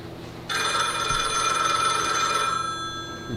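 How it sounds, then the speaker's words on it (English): Steady electric telephone bell ringing continuously, a bright sustained metallic trill that holds loud and even for about two seconds before cutting off, heard alone in a quiet room. "Phone, Mildred!"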